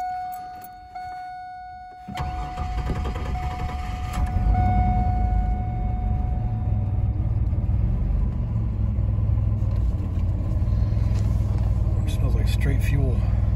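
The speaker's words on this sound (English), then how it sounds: "I'm just gonna straight crank it and see what happens" A 2000 Chevrolet Camaro with a hot start problem cranks after a quiet start, then settles into a loud, steady engine rumble that runs close by for the rest of the clip. Someone talks over it.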